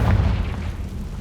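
A Confringo spell explosion from the game Hogwarts Legacy bursts as one loud, deep boom that fills the whole moment.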